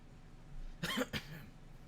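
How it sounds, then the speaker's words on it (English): A single sharp cough, close and fairly loud, with a short second burst, in an otherwise quiet room. "Including that cough that I just did."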